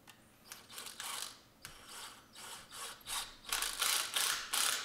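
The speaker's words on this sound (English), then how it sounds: "I'm binding them all together with some hose clamps." Hose clamps are tightened around bundled high-carbon steel springs, a close series of quick ratcheting, clicking bursts in an uneven rhythm, repeating and growing more frequent toward the end, with no talk.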